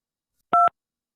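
A telephone keypad gives two quick dialing tones back to back, clean and close against silence.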